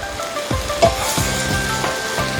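Carrots and cauliflower sizzle in a hot pan, a close, steady frying hiss with a few light clacks of stirring, no voices.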